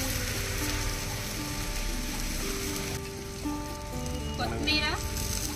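Curry leaves and mint hit hot oil in a kadai over a wood-fired stove for chicken biryani, a dense crackling sizzle running throughout with a steady tonal background sound layered over it.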